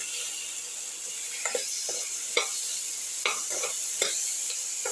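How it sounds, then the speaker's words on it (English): Tomato pieces are sautéed and stirred into a potato mixture, with a soft continuous sizzle broken by several light scraping clicks of a utensil against the pan. "Thoroughly saute and mix."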